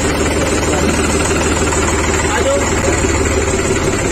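A New Holland 3630 limited edition tractor engine idles with a steady, loud, low rumble and vibration, continuous from start to finish.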